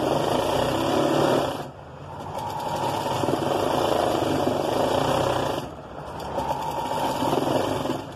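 Sewing machine stitching along a lining joint of a garment, a steady fast mechanical whirr in runs, pausing briefly twice before resuming, close and moderately loud.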